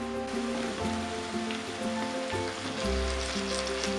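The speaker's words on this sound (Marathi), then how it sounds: "चला आता आपण टोमॅटो टाकून घेऊया." Tomatoes hit a hot pan already holding ginger and garlic for a Koli-style dry tiny prawn dish, giving a steady broadband sizzle that swells louder near the end, with no talking.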